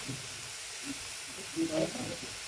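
Egg and cucumber stir-fry in a pan with a steady hiss and light sizzle, a few soft scraping bursts, and a voice speaking over it.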